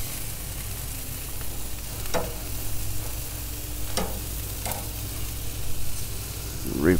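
Meat cooking on a grill at a Father's Day smoke, a constant low sizzle with a few sharp scrapes and clanks as pieces are flipped, spaced a couple of seconds apart.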